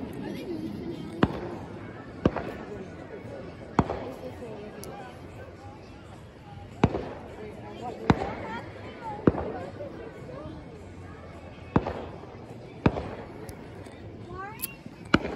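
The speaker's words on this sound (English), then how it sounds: "So, fireworks, honestly, not that crazy so far." Fourth of July fireworks bursting at a distance, sharp individual booms spaced irregularly every second or two over a quiet outdoor background with faint crowd murmur.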